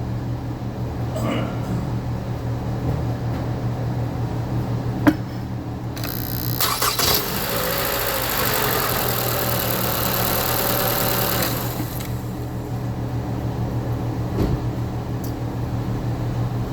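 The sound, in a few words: Toyota 2AR-FE car engine starting and idling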